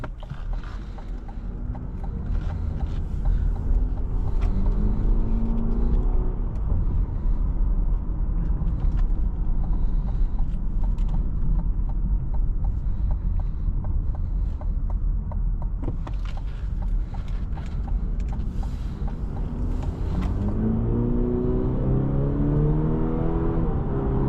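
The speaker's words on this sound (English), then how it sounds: "Nice acceleration. Picks up speed well." A 2025 Cadillac CT5 Premium Luxury accelerates on the road, a steady engine and road rumble building through the cabin with a rising tone near the end, close and continuous with no talk.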